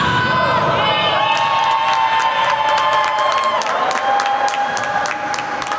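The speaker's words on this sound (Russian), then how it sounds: "Болельщики, как могли, поддерживали команды." Volleyball fans at a championship match cheer and shout for the teams, a loud crowd with high voices and whoops, sharp claps and bangs punctuating the noise, growing busier toward the end.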